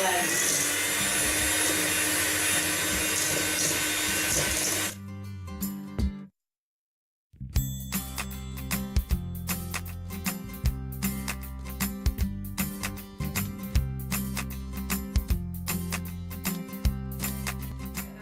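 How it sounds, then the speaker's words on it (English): An electric hand mixer beats sugar and vanilla sugar into muffin batter with a loud, steady whirring drone for about five seconds, then cuts off. After a short silence, music plays. "you just mix it until the sugar has completely dissolved and it all is like one blend"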